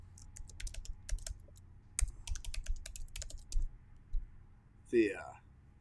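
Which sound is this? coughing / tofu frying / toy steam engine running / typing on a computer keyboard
typing on a computer keyboard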